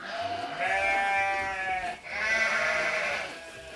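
A sheep bleats in two long, wavering calls, each lasting over a second with a brief dip between them, loud and close with no talking.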